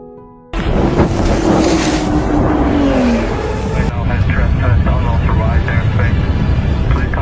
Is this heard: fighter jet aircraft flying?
yes